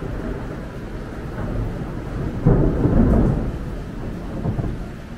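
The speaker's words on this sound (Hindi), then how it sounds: "अभी बस लाइटनिंग भी किया, ये देख सकते हो फुल बारिश।" Heavy rain hisses steadily outdoors while a low, deep rumble of thunder swells midway and slowly fades. No one speaks.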